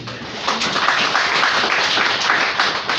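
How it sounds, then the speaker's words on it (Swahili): A church congregation clapping their hands in praise of Jesus, a dense continuous patter of many hands close and loud, with voices faintly mixed in beneath. "Tupige Bwana Yesu makofi"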